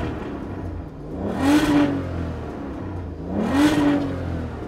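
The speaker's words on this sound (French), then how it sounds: "Et je vous laisse écouter le bruit du 12 cylindres." An Aston Martin DB9's V12 engine revs twice, each rise swelling loudly then falling back to a rumbling idle, close by.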